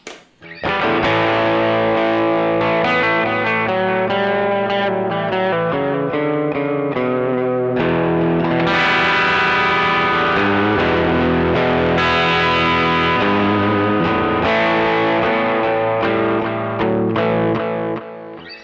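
Electric guitar on an amp's dirty channel through modulation and delay pedals rings out loud and sustained, thick distorted chords and notes swirling with chorus-like wobble and trailing echoes, played alone without talk.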